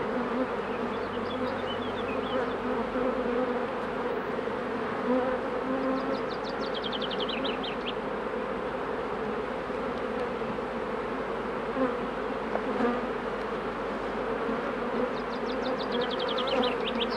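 A dense, continuous drone of many honeybees buzzing up close over an open hive with brood frames, steady throughout, with a few faint bird chirps in the background.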